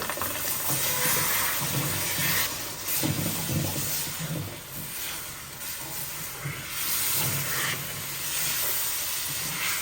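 Water poured into a pan of semolina fried in oil hisses and sizzles in a loud, steady broadband rush, swelling in a few bursts over roughly ten seconds with no talk.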